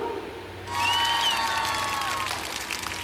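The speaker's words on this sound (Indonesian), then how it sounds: "tepuk tangan dulu untuk kepada teman-teman semua yang maju" Classroom applause for classmates who came forward during a group guidance counseling session, a short burst of clapping that starts abruptly and fills the room, with a voice faintly heard underneath.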